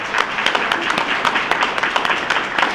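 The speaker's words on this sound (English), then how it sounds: "let's give a final applause to our inductees" A crowd applauding inductees at a nursing honor society chapter induction ceremony, with dense, steady clapping from many hands that stays loud and continuous throughout.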